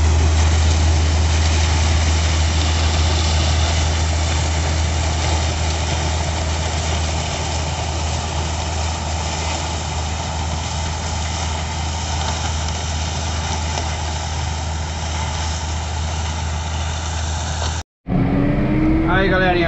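A tractor engine runs steadily through a mechanized sugarcane harvest, a loud continuous low drone that never lets up, cutting off abruptly near the end.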